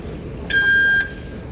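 A Riyadh Metro ticket gate sounds a single clear electronic beep lasting about half a second after a card is punched, standing out over a low station hum.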